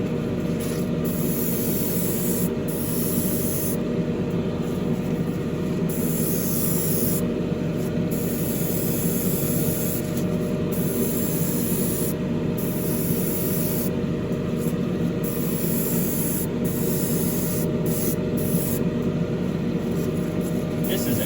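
Spray paint hisses steadily in very light coats onto a model kit body of an AMT 1967 Impala Street Machine, a continuous close broadband spray with brief pauses between passes.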